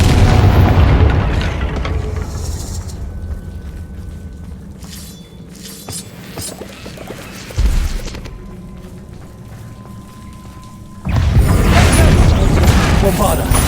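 Confringo fire-blast spells in the Hogwarts Legacy game go off in a fight with spiders, heavy booming and shattering bursts at the start, midway and at the end, with a voice over the game sound.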